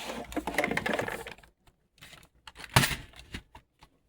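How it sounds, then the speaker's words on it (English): A computer keyboard scraped and shoved across a desk with a gritty sliding rasp, followed by a few scattered knocks and bumps after a short pause, close and with no speech. "let me push the keyboard forward a little bit."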